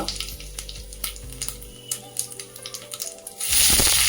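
Mustard seeds, cumin and asafoetida hit hot oil, giving scattered popping crackles over a low hum, then a sudden loud, steady sizzle near the end.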